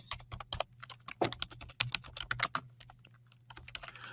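Typing on a computer keyboard while entering a property address, a quick irregular run of close, crisp key clicks lasting several seconds, heard alone with no voices.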